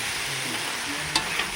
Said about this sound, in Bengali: আমরা এখন দেখছি এখন আলু ভাজি